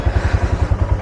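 A motorcycle engine runs close by just after being switched on, giving a brief, loud, evenly paced thumping idle with a faint metallic clatter.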